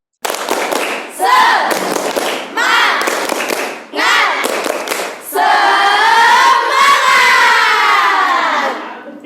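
A classroom group performs a rhythmic spirit clap chant, bursts of clapping and thumps alternating with shouted voices, ending in a sustained loud group shout.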